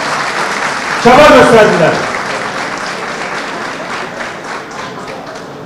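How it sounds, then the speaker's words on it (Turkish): A crowd at a CHP party congress claps loudly for about a second, then the applause fades to a softer patter that continues under someone speaking Turkish at the microphone. "Alkışlayalım lütfen onları."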